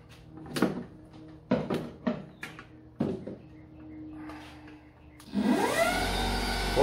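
After several knocks and clunks, the servo motor on a Vevor 8x14 mini lathe whirs up to high speed at about 4,500 RPM, rising in pitch and then holding a loud, steady whine close by.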